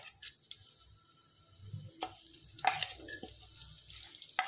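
Cumin seeds hit hot oil with faint, scattered crackles and light sizzling, broken by a few sharp ticks and stirring clicks of a utensil against the pan.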